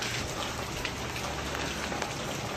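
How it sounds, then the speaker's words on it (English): Heavy rain pours down in a dense, constant roar of drops hitting surfaces outdoors, loud and unbroken with no other sounds. "Yeah, it's downpouring."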